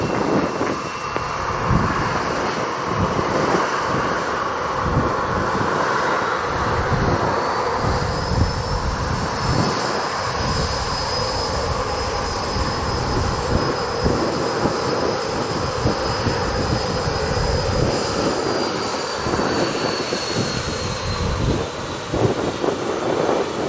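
Airplane taking off at Montego Bay airport in Jamaica, a loud, steady engine roar that lasts throughout with a rising whine on top, heard from nearby with wind buffeting the microphone.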